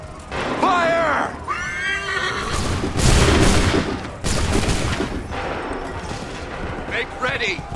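Soldiers fire a musket volley in Assassin's Creed 3 at Lexington and Concord, a loud burst of overlapping gunshots amid horses whinnying and neighing, with more scattered shots and shouted voices around them.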